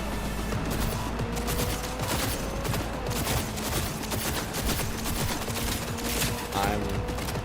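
Dense, continuous gunfire in a high-speed shootout in the video game Cyberpunk, loud rapid bursts overlapping with a constant rumbling background and no pauses.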